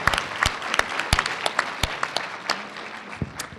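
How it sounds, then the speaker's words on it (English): Applause from a school talent show audience after a performance, with loud, sharp individual claps standing out over a wash of scattered clapping throughout. "Round of applause, everybody."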